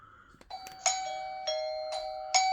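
IMILAB smart wireless video doorbell chime ringing a bright, clear multi-note melody, each tone ringing on and overlapping, close and moderately loud with no talking.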